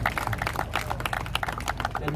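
Applause from an outdoor crowd at a world-record ceremony during a Minangkabau cultural festival at Istano Basa Pagaruyung, dense overlapping clapping with scattered cheers, loud and sustained throughout.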